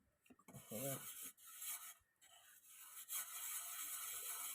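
Rust being scrubbed off a surface using bathroom cleaner, giving steady close rasping and rubbing strokes that carry on almost without a break, with a few short gaps and a brief voice early on.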